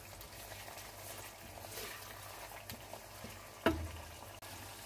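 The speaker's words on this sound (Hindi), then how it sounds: "टमाटर को इस तरीके से मैश करके थोड़ा सा हमने फ्राई करना है।" Mashed tomatoes frying in a pan for spinach mutton, a soft steady sizzle with faint scraping of stirring and one sharper clink near the end, quiet and close, no talking.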